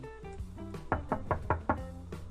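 Someone raps on a door in a cartoon episode: a quick series of about seven firm knocks, loud and close, with no talking.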